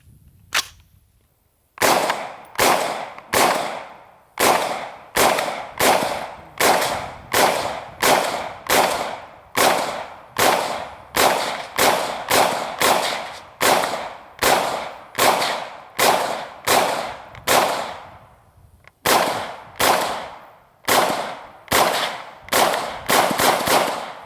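A heavy rifle fires about twenty sharp, loud shots in a steady rhythm, each roughly a second apart, with a short break near the end before the firing resumes.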